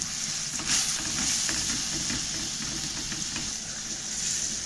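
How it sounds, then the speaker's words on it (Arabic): Half a kilo of minced meat fries in a little corn oil in a pan, giving a steady, close, loud sizzle with faint stirring scrapes throughout. "عندي الطاسه بتاعتي فيها شويه من زيت الذره، هنزل بقى عندي نص كيلو من اللحمه المفرومه"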